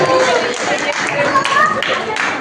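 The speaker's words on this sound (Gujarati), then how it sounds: "આપણે તાળીઓ ચાલુ રાખશું" Audience clapping at a school prize ceremony, a dense, steady wash of applause filling the whole stretch at moderate loudness, with voices faintly mixed in.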